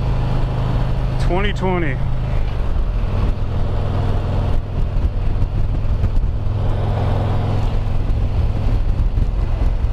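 A 2020 Harley-Davidson CVO Limited motorcycle rumbles steadily on the move, with heavy wind buffeting the microphone throughout and a rider talking over the engine, briefly at first and then on and off.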